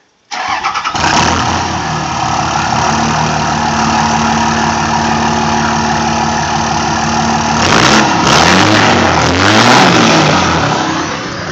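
A Cummins diesel truck engine starts and revs hard through its exhaust, a loud, steady roar held for several seconds, then surging again in sharper revs near the end with no talking.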